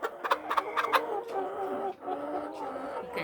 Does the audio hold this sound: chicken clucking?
yes